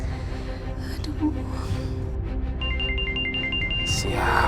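A phone ringtone chirps in a repeated electronic warble over faint room noise in an indoor domestic scene, moderately loud and close, with no speech.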